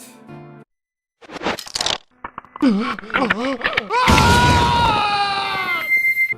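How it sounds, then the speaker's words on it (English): Link screams in pain while changing masks in Zelda: Majora's Mask, a loud, strained in-game cry that rises and warbles for a couple of seconds after earlier bursts of voice and game sound. "When you change masks, you get to see Link scream his heart out in pain."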